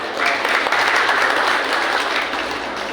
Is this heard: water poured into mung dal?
no